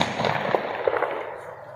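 Gunfire in a police shootout with armed robbers, heard as a handful of sharp cracks and pops in a noisy outdoor scene, moderately loud, with crowd noise and a few voices in the background.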